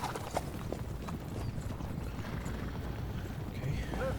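Horse hooves clip-clop steadily at a walking pace in the video game Kingdom Come: Deliverance 2, a continuous rhythmic patter under low background noise.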